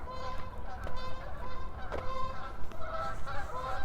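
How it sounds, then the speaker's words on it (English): Geese honk repeatedly overhead on a spring morning walk around a university campus in Regina, a steady series of calls with distant background noise. "Here comes geese."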